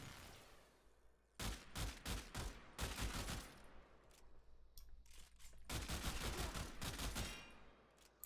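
Rapid three-shot bursts from a Burston Riven burst rifle in a video game, several sharp crackling volleys in quick succession, loud and close with short pauses between groups.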